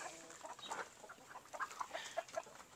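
Rhode Island Red chickens and roosters cluck in short, scattered bursts on a farm where more than 600 birds are kept, the calls quiet and mid-distance with no one speaking.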